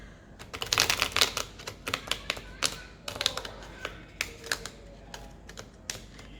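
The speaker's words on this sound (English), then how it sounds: "first, I need to shuffle the cards." Rapid crisp flutters and clicks of tarot cards being shuffled, in several quick bursts close by.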